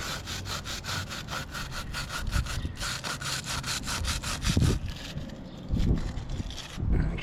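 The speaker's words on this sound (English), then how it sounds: "start scrubbing." Bicycle chain scrubbed with a brush during cleaning, a steady fast back-and-forth rasping in an even rhythm, close and loud, with no talk.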